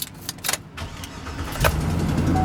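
A Hummer H2 with an exhaust leak and 70,000 km on it cranks and fires up, its engine settling into a steady, close, rising rumble that carries on alone with no talking.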